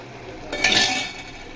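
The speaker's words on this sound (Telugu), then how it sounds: "ఇలా బాగా పేస్ట్ అంతా ముక్కకు పట్టేలా కలపాలి మనం" Green chilli chicken pieces coated in green paste are stirred in a pan, giving one brief clink and scrape of a utensil against the metal, close and moderately loud, with no talking.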